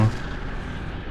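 A heavy, rumbling blast from the video game Little Witch Nobeta fills the clip, a dense low roar that sustains with little change and no talking.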